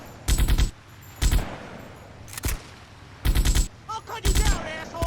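Video-game gunfire from GTA Vice City Stories comes in loud, close bursts of rapid automatic shots with short pauses between them. A character shouts during the later bursts.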